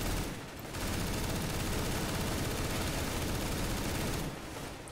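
Continuous, loud automatic gunfire from a CS:GO JailBreak round, a dense unbroken volley of rapid shots running for several seconds with brief dips at the start and end.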